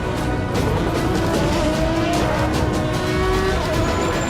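Cars racing in the video game Forza Horizon 3 give a steady, loud engine roar with tire noise throughout, close and continuous with no talking.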